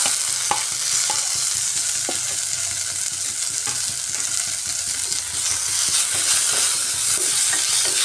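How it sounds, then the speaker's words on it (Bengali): Chopped tomatoes fry in a pan with ginger and garlic for egg kosa, a steady close sizzle running throughout with occasional clicks and scrapes of stirring, no voices. "এবার কুচিয়ে রাখা টমেটো দিয়ে দিচ্ছি।"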